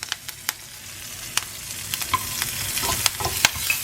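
Green chili, curry leaves and garlic temper in hot frying oil for mango rice, giving a close, continuous crackling sizzle with sharp pops and spatters throughout.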